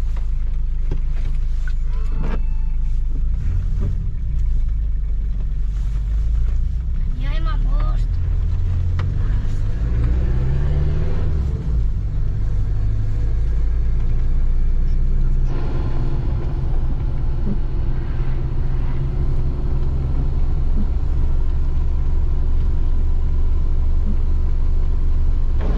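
A car engine drones and rumbles continuously while driving on the way to the snow, a loud low roar that rises in pitch as it accelerates, with people's voices mixed in.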